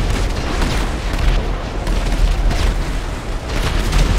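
Loud, continuous rumbling booms of missile explosions in GTA 5 merge into a dense, roaring barrage with no pauses; no speech is heard.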